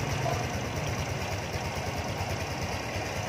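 A used Honda Wave motorcycle's small engine idles steadily with an even, rapid low putter and mechanical clatter, loud and close, with no talk over it.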